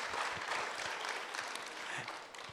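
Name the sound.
audience applause at a meeting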